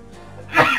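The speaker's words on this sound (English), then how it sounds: "I have to sneeze." A single short, sharp sneeze bursts out near the end after a brief, quiet lead-in, close to the microphone.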